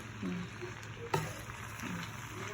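Macaroni frying in a pan with chilli as it is stirred, a soft steady sizzle with a few light scraping stirs and one sharp clack from the utensil partway through.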